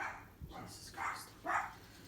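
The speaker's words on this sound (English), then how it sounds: "I just hear my dogs bark" Dogs bark a few times, three or four sharp, muffled barks from a distance, rising over a quiet indoor background.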